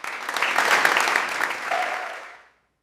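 A room full of people claps briefly, the applause swelling quickly and then dying away into silence.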